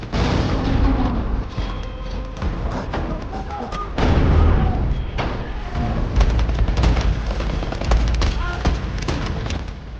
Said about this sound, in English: the seasoned soldier pulled out a grenade and shoved it into the tank's tracks.